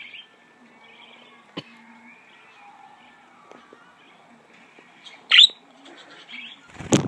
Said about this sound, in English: A noisy happy budgie.